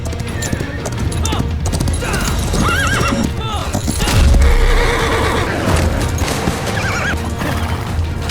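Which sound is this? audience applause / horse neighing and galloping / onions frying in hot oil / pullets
horse neighing and galloping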